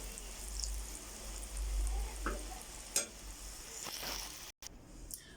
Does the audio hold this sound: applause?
no